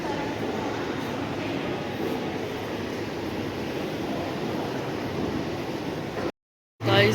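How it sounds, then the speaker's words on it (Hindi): Metro train at a suburban station in Australia, a steady broadband rumble of the approaching carriages filling the platform, loud and continuous, then briefly cut before resuming. "गाइस मेट्रो आ गई।"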